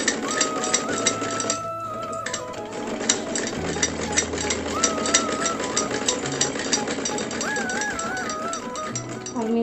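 A sewing machine stitches the leg of a small doll dress with a steady, fast mechanical rattle, close and continuous. Faint background music sits underneath.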